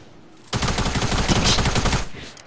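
A drum gun in a video game fires one continuous rapid burst for about a second and a half, loud and close, then cuts off abruptly.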